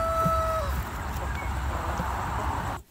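Chickens in a DIY mobile chicken house give a brief crow-like call and scattered faint clucks over a steady, noisy outdoor background.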